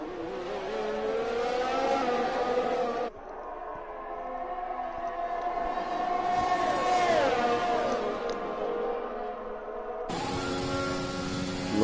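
A race car in a racing video game pulls out of the pits, its engine droning and rising in pitch as it accelerates, with sharp cuts between loud revving passages.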